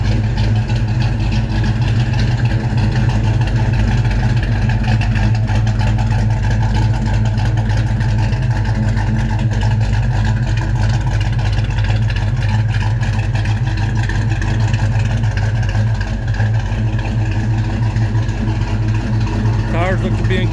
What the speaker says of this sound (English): Motor sounds like it's had some work done to it. It's got a little performance cam in it.